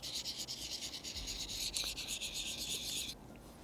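A kitchen knife is stroked along a sharpening tool at a steady angle with light pressure, giving a continuous close scraping rasp of repeated passes that stops abruptly near the end.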